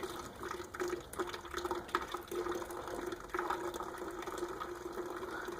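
Coolant draining from an MK3 Supra radiator and spattering off a crossbar, a faint continuous splashing trickle with irregular pattering.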